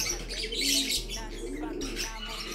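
Pigeons coo softly in a loft, with light chirps and rustling close by and no talk.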